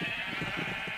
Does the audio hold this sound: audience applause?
no